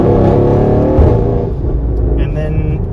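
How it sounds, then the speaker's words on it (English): A Mercedes-AMG GLC63s with custom dump pipes, exhaust valves open in sports mode, gives a loud, deep, steady engine drone that eases slightly toward the end, close to the car. "So back down into sports mode, opens up the exhaust,"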